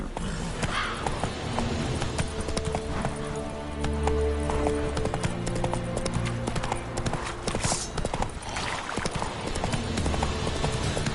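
Roach the horse galloping in The Witcher 3, rapid hoofbeat clip-clop running steadily throughout over game music, with a brief whinny and no talking.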